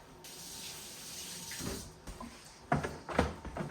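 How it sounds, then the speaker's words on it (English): A kitchen tap runs while hands are washed before cooking steak, a soft, fairly faint steady stream, with splashing and clattering handling noises growing louder toward the end. "Right, now, wash your hands again."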